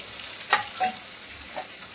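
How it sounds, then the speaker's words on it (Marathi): Curry leaves, green chili and ginger sizzle in hot oil in a home kitchen, giving a few short crackling bursts and pops over a faint steady hiss, close by with no talking. "कढीपत्ता टाकूया, मिरची टाकूया, थोडंसं अद्रक टाकूया"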